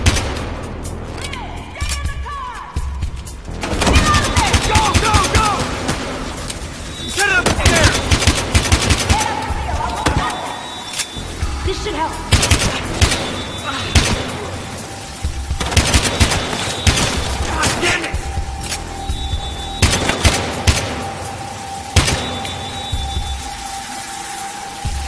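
Pistol and shotgun fire in a Battlefield Hardline police shootout, bursts of sharp repeated shots in clusters over several seconds amid game ambience and voices.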